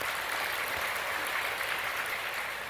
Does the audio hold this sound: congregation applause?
yes